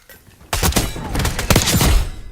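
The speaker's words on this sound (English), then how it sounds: "he's shooting me without any line of sight" Rapid bursts of video game gunfire, loud and close, break in suddenly after a brief quiet and keep going in dense volleys of shots and thuds.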